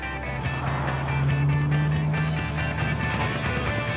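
A 1964 Chevrolet Corvette Sting Ray drives along with a steady low engine drone and some tonal hum, loud and fairly close, the note rising slightly midway; no speech over it.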